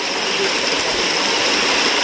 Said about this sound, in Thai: น้ำตกนะ